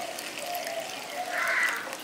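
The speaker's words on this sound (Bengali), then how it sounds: "এবার এতে আমি 2 কাপ জল দিয়ে দিচ্ছি।" Two cups of water pour into cornflour and sugar in a bowl for mango ice cream, a steady close gushing stream that swells briefly toward the end.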